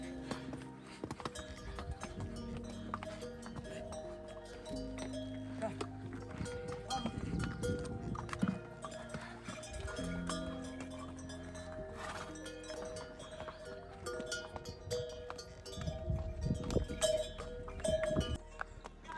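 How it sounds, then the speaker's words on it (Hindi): A horse walking on a mountain trek trail toward Rudranath, hooves clip-clopping steadily alongside bells, with people talking and other trail noise throughout. "भाई एक घोड़ा फिर से लेना पड़ गया"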